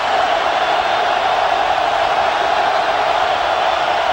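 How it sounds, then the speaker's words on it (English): Stadium crowd at a 1997 college football game between Notre Dame and Michigan, a dense, loud, sustained roar of cheering that fills the whole stretch without pause. "Crowd getting into it."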